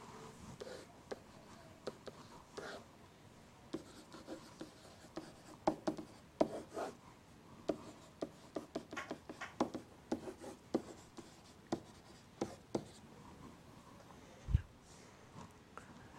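Hand-writing of a velocity vector for a maths lesson gives a long run of soft, close scratching strokes and taps at an uneven rhythm, with no voices.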